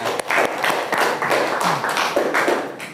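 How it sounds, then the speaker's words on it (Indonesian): A small group claps during a physics class session, the individual hand claps distinct, close and somewhat uneven over a few seconds. "Tepuk tangan untuk semuanya."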